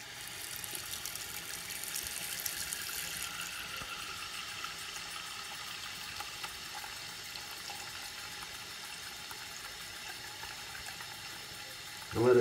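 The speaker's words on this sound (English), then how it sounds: "just put it in the sink, and just fill the sink" Water from a tap runs steadily into a sink to fill it, a continuous broadband rushing hiss that holds at an even level throughout, with a brief louder burst at the very end.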